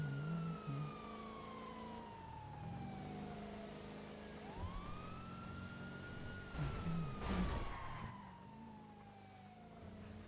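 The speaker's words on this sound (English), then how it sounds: "Guess they don't care about sirens." An emergency vehicle siren wails past, its pitch sweeping down and then rising again as it cycles, with a steady traffic rumble underneath and a loud burst midway as the vehicle draws near.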